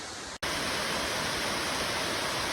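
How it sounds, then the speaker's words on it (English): A waterfall along a mountain hiking trail to Switchback Pass on the Continental Divide: a loud, dense, continuous roar of falling water that starts abruptly after a brief cut and stays steady and close throughout. "Beautiful waterfall on the hike to Switchback Pass."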